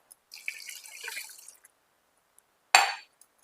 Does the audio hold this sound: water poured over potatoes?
yes